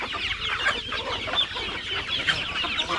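Native chickens on a farm clucking continuously in a dense, overlapping flock, with several hens close by and no talk over them.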